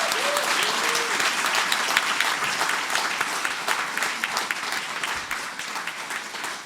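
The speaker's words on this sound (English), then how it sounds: "Please give yourself and our panelists a round of applause." A live audience at a panel discussion on humans, AI and financial crime applauds the panelists: a dense, steady round of clapping fills the whole stretch, loud and close, easing slightly toward the end with possible faint voices mixed in.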